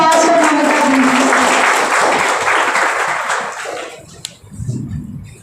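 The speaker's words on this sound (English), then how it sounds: "A big round of applause for Mamita, please." An audience at an Engineer's Day event at Haldia Institute of Technology breaks into loud, dense applause with some cheering, which tapers off over a few seconds as a single voice begins speaking.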